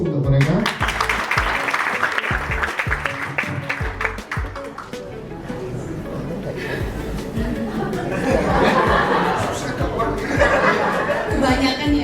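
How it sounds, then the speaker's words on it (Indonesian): Audience applause at a Bali vocational and entrepreneurship training event, with a steady crowd clapping alongside chatter and some laughter for the whole stretch. "Kita berikan aplaus dulu untuk mereka."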